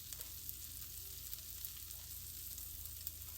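Minced garlic fries in oil with a steady, fairly quiet sizzle that holds evenly throughout, with faint small crackles on top.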